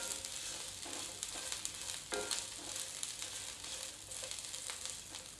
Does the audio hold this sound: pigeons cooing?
no